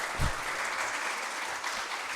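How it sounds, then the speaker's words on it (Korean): A congregation at a Korean church's Thanksgiving service in Phnom Penh breaks into steady, dense applause of thanks that fills the whole short stretch at an even level, with no voices above it. "우리 감사의 박수를 올려드리겠습니다"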